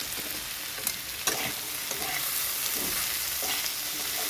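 Potatoes and flat beans frying in a pan with turmeric and salt just added, stirred with a utensil: steady close sizzling with a few sharp scraping knocks, no talk.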